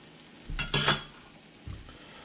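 Food dropped into a hot Lodge cast iron skillet at a camp cooking setup, with a brief loud burst of sizzling and stirring, then a smaller flare of frying noise, close by and without talk.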